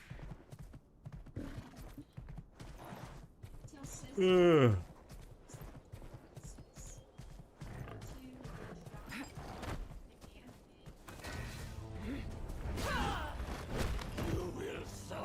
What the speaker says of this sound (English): get back on the horse. Or the stag, whatever it is.